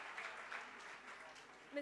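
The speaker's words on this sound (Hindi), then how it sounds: "ज़ोरदार तालियां यीशु मसीह के लिए।" Applause from a church congregation at a Sunday prayer service, a steady wash of clapping that holds evenly for under two seconds, moderately faint and with no voices over it.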